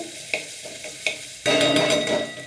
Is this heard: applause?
no